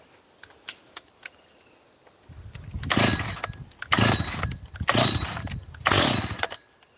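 A Stihl 045 chainsaw revs hard in four loud bursts after a few faint clicks, each roaring rev cutting off before the next.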